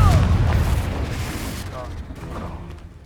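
A Confringo blasting spell explosion in the Hogwarts Legacy video game lands as a loud, deep boom at the start, then decays into a rumbling tail with faint crackles.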